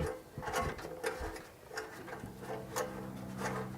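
A socket wrench on a spring-tensioned assembly gives quick ratcheting clicks and metallic rattles in close, irregular bursts, with no one talking.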